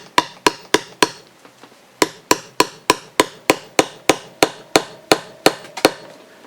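A hammer taps a tool to drive a prop shaft seal into place, striking in sharp, evenly spaced metallic knocks. About twenty hits come in two runs, loud and close.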